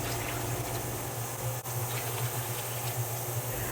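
A gallon of water pouring into a cooking pot for rice pudding, a steady continuous splashing rush of liquid at close range with a low hum underneath, no voices.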